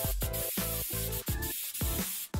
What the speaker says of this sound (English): And then you just spray paint it black.